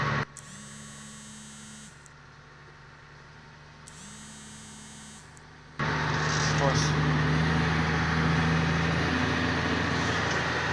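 A tractor creeps slowly across a field during spring ploughing for barley, pulling through many branches. Its low, steady engine drone hums close by, then swells abruptly into a louder, rougher rumble partway through.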